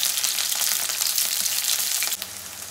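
Onions frying in a pan in a home kitchen, a steady close crackling sizzle running without pause and easing slightly near the end.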